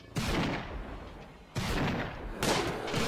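Turret gunfire in the video game RimWorld, with three loud bursts of rapid shots, each starting sharply and rolling on as sustained crackling fire with no talking.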